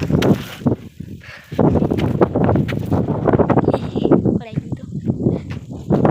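Strong wind gusts roar steadily across an open sesame field, buffeting the microphone with heavy low rumble throughout, with a person talking over it.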